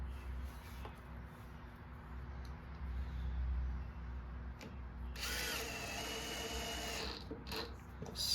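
A power drill snugs screws down on the base of a free lawn mower. After a quiet stretch of light shop noise, there's a near, whirring burst of about two seconds, followed by a few brief clicks.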